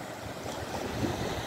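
Sea waves washing onto a sandy Adriatic beach at Bibione, Italy, heard as a steady wash of surf mixed with wind buffeting the microphone, moderately loud and continuous with no voices.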